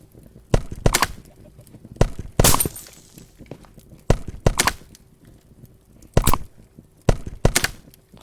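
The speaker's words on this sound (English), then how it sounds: "you just want to keep on chiseling" Chiseling a tool handle in the VR game A Township Tale: loud, sharp, close strikes land in irregular single and paired hits with quiet gaps between, and no voice.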